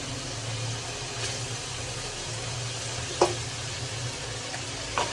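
A fish head and fish pieces frying in a pan give a steady, even sizzle across the whole stretch, with a couple of brief clinks or stirs standing out near the end.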